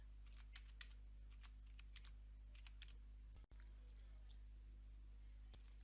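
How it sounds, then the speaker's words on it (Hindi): Typing on a computer keyboard: quiet, scattered keystrokes tapping irregularly over a constant low electrical hum, with a short dropout partway through. "तो यहाँ पर हम टाइप कर देंगे प्रिमिटिव।"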